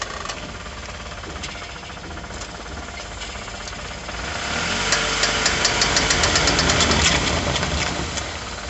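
A worn drive shaft CV joint on a car clicks and knocks steadily while the vehicle turns, a rapid mechanical ticking over engine noise that grows louder partway through.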